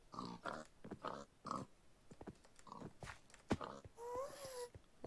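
Pigs from a spawner in Minecraft, a Skyblock map, give several short grunts and oinks in an irregular string, faint and close, with a few clicks between them.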